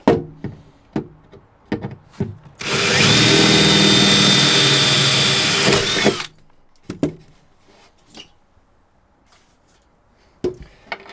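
A power drill whirs steadily for about four seconds, loud and close, drilling holes in a boat, with scattered clunks and taps before and after.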